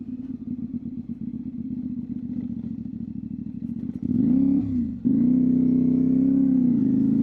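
A CFMOTO 450 adventure motorcycle rides onto a gravel road. Its engine drones loud and steady with a fast rhythmic pulse, dips briefly, then settles into a smoother, higher sustained hum.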